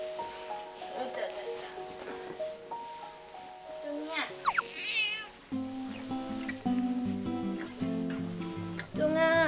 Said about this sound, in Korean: 뚱한 표정이 매력적인 고양이 뚱입니다.